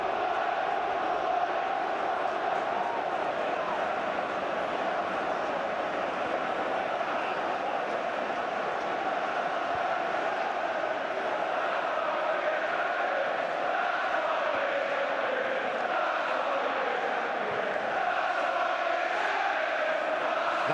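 A large football crowd at Old Trafford chanting during Manchester United v Arsenal, heard as a steady, distant wall of massed voices that holds at an even level throughout, with no distinct individual sounds standing out.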